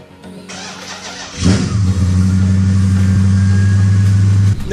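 A 2018 Ford Mustang GT engine cranks briefly, then catches and settles into a loud, steady, deep idle rumble close by, with no voices.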